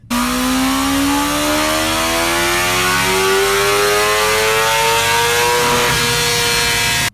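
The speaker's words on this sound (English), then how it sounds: "a lot of people will open the throttle so the bike accelerates" A BMW motorcycle engine revs up loud and close as the throttle opens, its pitch climbing steadily and continuously for several seconds without a break.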